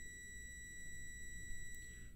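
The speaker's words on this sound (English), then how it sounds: "If the measured resistance is less than 50 ohms, the meter's buzzer will sound." A Dawson DDM648 digital multimeter sounds its continuity buzzer, a faint steady electronic tone held for a couple of seconds over low background noise.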